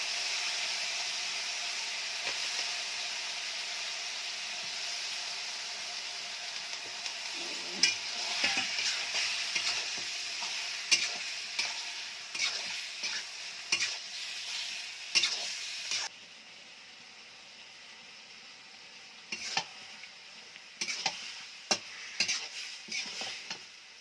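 Snakehead fish being stir-fried with spices on a wood-burning stove sizzles steadily, with scraping stir strokes breaking in from about a third of the way through, and the hiss grows quieter toward the end.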